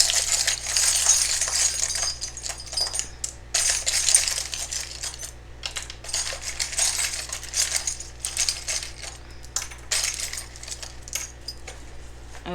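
Small metal charms clink and rattle continuously as they are shuffled by hand for a card reading, a bright close jangle that rises and falls with the movement, with no talking over it.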